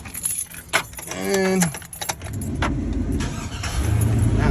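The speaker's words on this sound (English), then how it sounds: "See if my truck starts." Keys jangle close up before a 1999-2006 Chevy Silverado truck with a freshly replaced starter gives a short rising starter whine, then catches quickly and settles into a steady, rumbling idle, with a brief spoken word.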